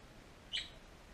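A pet bird gives a single brief chirp, faint and close by, in an otherwise quiet indoor room.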